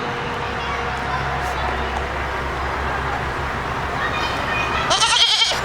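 Goats at a petting zoo in Pennsylvania bleat briefly over steady outdoor noise and people talking nearby, with a short, louder bleat near the end.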